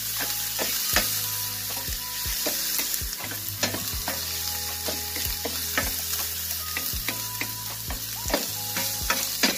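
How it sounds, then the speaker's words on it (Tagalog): Finely chopped ginger sizzles in a hot pan for sinigang sa miso, a steady loud frying hiss broken by repeated scrapes and clacks of stirring close up. "Ayan, ilagay na natin yung ginger guys."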